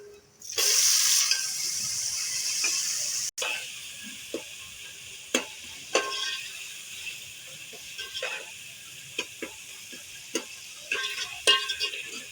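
Tomatoes added to browned onions and ginger-garlic paste fry in a pan, a steady sizzle at first giving way to quieter crackling with sharp stirring clicks and scrapes scattered throughout, close by and without talk.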